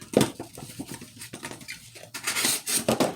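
A knife slices into corrugated cardboard, a handful of short, crisp scratching and tearing strokes up close, irregular in rhythm, with a louder rasping cut near the end.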